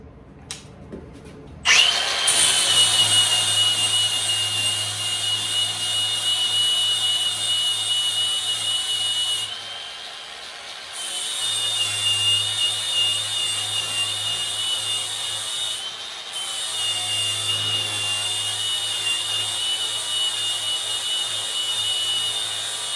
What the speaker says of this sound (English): I'm going to take the flap wheel, get it a little wider than what I need